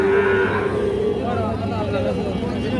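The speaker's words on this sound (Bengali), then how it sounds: "এটা একটা শাহিওয়াল ষাঁড় বাচ্চা।" A Sahiwal bull calf at a cattle market lets out a moo at the start, a low drawn tone fading within a second, over a constant din of market chatter and crowd noise.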